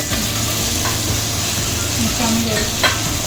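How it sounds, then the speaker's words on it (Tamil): Potatoes sizzle and fry in hot oil for a mutton gravy, a steady close crackle with light stirring scrapes, and faint voices talking underneath. "இப்போ இந்த உருளைக்கிழங்கு கொஞ்சம் வதங்கட்டும்"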